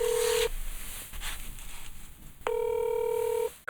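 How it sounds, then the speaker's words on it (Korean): Touch-tone dialing tones on a telephone line while a call to a lawyer is placed, two steady beeps with a short gap of noise between them, fairly loud and alone with no talk. "제가 전화 연결 한번 해보겠습니다"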